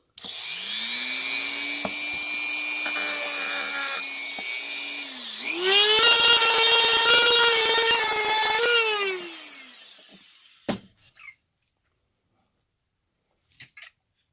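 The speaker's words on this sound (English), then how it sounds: "Guess I could just do it the faster way and use my Dremel." A Dremel rotary tool dresses the edges of an RC car CVD, its high whine steady at first, then pitching up under load for a few seconds before spinning down, followed by a couple of faint clicks.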